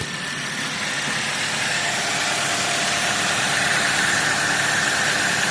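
A 2013 Dodge Avenger idles steadily with its AC compressor spinning, a close, loud, continuous engine drone and whir with a faint high whine, heard alone without talk.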